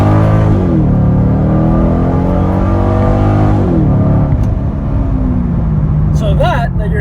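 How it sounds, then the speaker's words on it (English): Chevrolet Corvette C6 Grand Sport with Chevy's factory dual mode exhaust revs loudly up and down, its engine note rising and falling in several close, sustained sweeps with a brief whine near the end. "that you're hearing is the dual mode exhaust that Chevy puts in both the Grand Sport and the Z06 of this model year"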